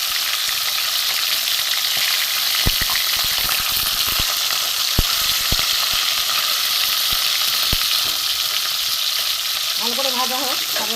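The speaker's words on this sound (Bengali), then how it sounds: "ভালো করে ভাজা হোক, তারপর দেখাচ্ছি।" Tilapia fish frying in mustard oil, a steady loud sizzle with scattered sharp pops and crackles throughout, and a brief tonal clatter near the end.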